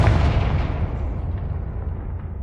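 Confringo fire spell explosion in the video game Hogwarts Legacy: one loud, deep blast with a broad rumbling roar that slowly fades over a couple of seconds.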